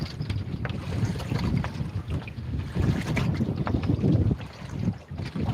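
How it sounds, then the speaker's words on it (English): Wind buffets the microphone on the open ocean around a houseboat, a steady loud rushing with gusty low rumble and swells that rise and fall throughout, no talking. "It may not work because of the ugly tide or the ugly wind here."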